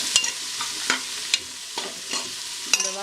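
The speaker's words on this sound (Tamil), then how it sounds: "வெங்காயத்தை போட்டு நல்லா வதக்கணும்" Onions sauté in oil for beef biryani, with a soft ongoing sizzle punctuated by about six sharp metallic scrapes and clinks of a spoon against the pan, close and without speech.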